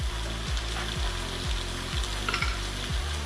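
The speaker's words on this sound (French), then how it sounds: "cette étape consiste juste à faire saisir un petit peu la viande et les oignons pour apporter un goût dès le départ" Meat and onions sear and sizzle in a pot for a couple's New Year couscous royal, a steady close frying hiss broken by regular low thumps of stirring about every half second.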